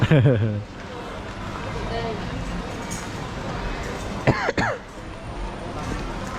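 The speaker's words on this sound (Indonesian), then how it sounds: "Dia sudah batuk pula" A person coughs a couple of times amid busy background chatter and street noise at Ben Thanh Market, Vietnam, with a sharper burst near the end.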